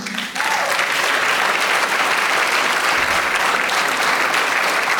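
Dense, loud applause from a large audience at a folk dance ensemble's 50th anniversary concert starts abruptly and holds steady without a break.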